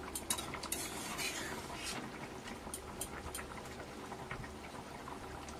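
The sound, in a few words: pot of fish curry being taken off the stove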